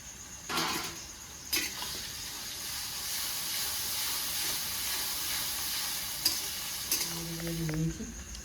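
Ginger garlic paste for dhaba chicken frying in a pan over browned onions, giving a continuous close hissing sizzle with a couple of sharp clinks from a spoon; a faint hum sits in the background and nobody speaks.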